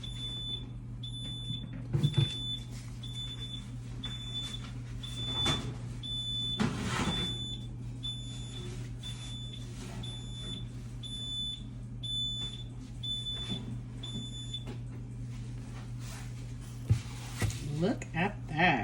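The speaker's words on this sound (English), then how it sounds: "That's our timer." A kitchen timer beeps in a steady run of evenly spaced, high-pitched tones while cinnamon rolls bake, sounding over a low hum with a person talking intermittently in the background.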